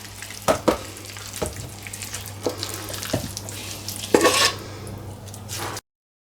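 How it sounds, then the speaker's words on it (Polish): Chicken meat stirred with a little oil, paprika and grill seasoning in a container at an outdoor campfire cooking setup: soft wet mixing and scraping with a few sharper clanks, close and fairly quiet, no voices. "Do tego odrobina oleju i mieszamy."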